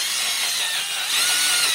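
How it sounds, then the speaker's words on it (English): A steady, loud high-pitched whir of a power drill with a wire brush grinding against a rusty bolt on a Jeep Wrangler's underside, running continuously and close up, with no talking. "I am beginning the cleaning process, so I'm using the drill."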